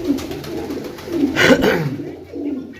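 Pigeons coo softly in low, throaty rolling calls, close by, with a brief burst of wing or rustling noise in the middle.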